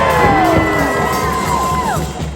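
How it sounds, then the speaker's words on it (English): A large rally crowd in Providence, Rhode Island, cheering and whooping loudly and continuously, with high shouts and yells rising over a dense roar of many voices. "What a crowd!"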